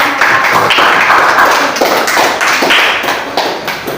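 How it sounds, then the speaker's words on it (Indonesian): Dense, steady clapping from a classroom of students after a group presentation, many hands patting at once with no pauses, fairly loud and close throughout. "beri tepuk tangan untuk"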